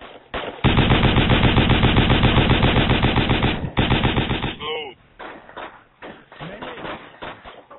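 Loud, sustained machine gun fire rattles in rapid bursts during Project Reality gameplay, one long stream then shorter trailing volleys, with players talking over the shooting.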